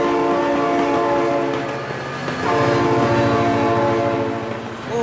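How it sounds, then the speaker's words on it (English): A loud train passes in the BeamNG driving game, its horn blaring in sustained, harmonic blasts over rumbling wheels and clickety-clack close by. "Oh my god, train!"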